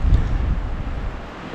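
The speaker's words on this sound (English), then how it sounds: "it's been a very, very windy day" Wind gusts at the Bright Angel Trailhead on the Grand Canyon rim, a low, rumbling buffeting against the microphone that is strongest at first and then settles to a steady blustery hiss.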